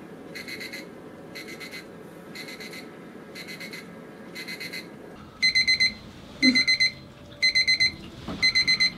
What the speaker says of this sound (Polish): budzik, który ma zadzwonić jako pierwszy, zadzwoni za 2 minuty